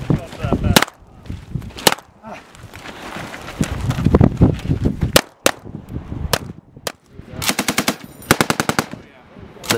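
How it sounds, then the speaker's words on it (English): Marines fire weapons during live-fire training, with loud close single gunshots and rapid machine-gun bursts crackling in irregular volleys, ending in a fast string of shots. "and live fire exercises."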